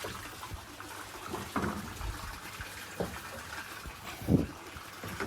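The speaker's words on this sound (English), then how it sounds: "The water is just simply pumped up by a pump into this filtration system" Pumped water flowing and splashing through an aquaponics filtration system holding jade perch, a soft continuous trickle broken by a few louder gurgles and splashes, fairly quiet and alone.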